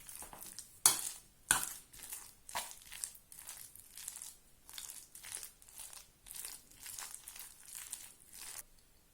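Oatmeal with mashed banana being lightly stirred in a bowl, a series of soft, close, crinkly squelching strokes in an uneven rhythm with brief pauses, no talking.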